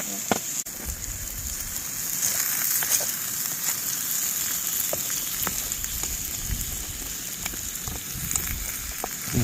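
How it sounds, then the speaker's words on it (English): Onions and peppers fry over a campfire, a steady soft sizzle with faint crackles and pops running throughout, fairly quiet and close. "start frying up the onions and peppers per my wife's suggestion"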